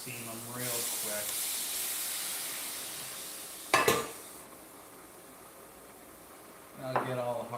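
Shrimp steaming in a pan give off a steady, broad hiss throughout, with one sharp clatter of cookware midway. Voices come in briefly at the start and again near the end.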